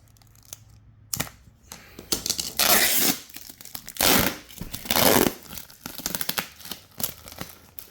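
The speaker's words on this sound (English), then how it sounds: "there's a area of tape I can rip." Packing tape is ripped in several loud, close tearing bursts, with crinkling and quieter handling sounds between them.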